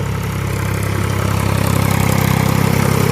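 A farm tractor engine runs during groundnut sowing and ploughing, a loud, close, steady diesel drone with a regular low throb and no voices.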